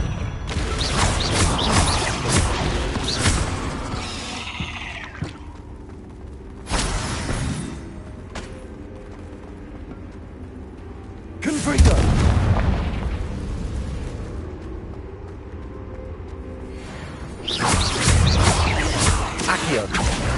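Confringo spell blasts in Hogwarts Legacy, several loud booming explosions separated by quieter stretches of rumble and game ambience, with brief speech mixed in.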